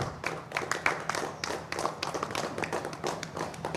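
A group of people clapping their hands together during a Hindu worship ceremony for Sri Chakra consecration, a steady run of dense, overlapping claps sustained throughout without pause, moderately loud with no speech over it.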